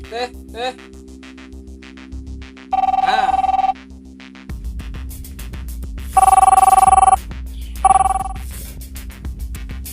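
A mobile phone rings in three loud, tonal bursts, the first short, then a longer one and a brief final burst, over a steady low background hum with some faint voices nearby.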